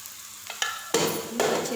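Masala with a spoonful of garam masala fried and stirred in a pan for arvi curry, with soft sizzling and a few scraping stirs that grow louder in two bursts, no talking.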